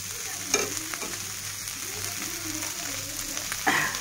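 Onion, green chili and ginger fry quietly in oil with a soft, continuous sizzle, broken by a few short scraping stirs of a spatula.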